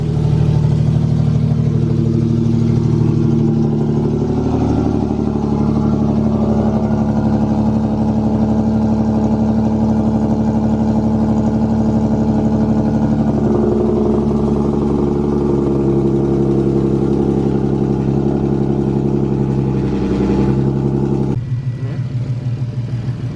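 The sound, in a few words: Infiniti Q50 engine idling with AMS Motorsport test pipes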